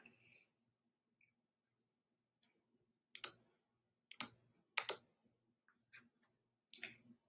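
Sharp mouse clicks on a computer in a quiet room, a few sparse single and double clicks spread unevenly, close and crisp, with a brief soft voice at the start.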